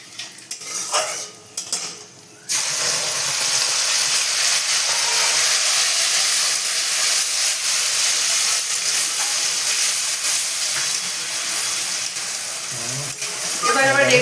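A Bengali spice tempering (phoron) fries in a pan for a mixed vegetable and paneer dish. A few utensil clinks come first, then a loud, steady sizzling hiss that continues throughout.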